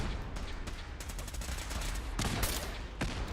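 Gauss rifle fire in Fallout 4 comes as loud, crackling bursts with sharp blasts around the middle and near the end, over a constant dense rumble.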